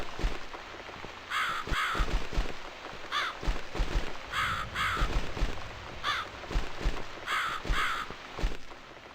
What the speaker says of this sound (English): It's this damn bird again.